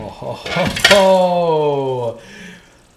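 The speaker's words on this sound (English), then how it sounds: "You lift this lid off" The metal lid comes off a pot of chana masala with a sharp clatter. A ringing tone follows, holds for about a second, then fades.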